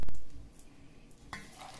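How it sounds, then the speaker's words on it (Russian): Korean-style eggplant salad being stirred in a bowl: a brief scraping, mixing rustle up close with a soft sizzle-like texture and a small clink near the end, with no voices. "Все это хорошо еще раз перемешаю."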